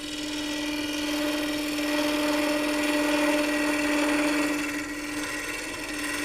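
Wood spins on a woodturning lathe while a gouge slices and scrapes it into a coffee scoop, giving a steady close whine with a strong motor hum and a continuous hiss of cutting.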